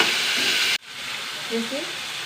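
Tomato sautéing in a hot frying pan, a loud, steady close sizzle that cuts off abruptly and resumes softer with faint stirring and a brief voice.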